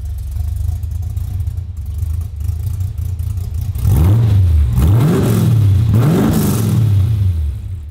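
A Holden HQ engine with mufflers slid over the ends of its extractors idles with a low rumble, then is revved hard three times in quick succession, each rev rising and falling, loud and close.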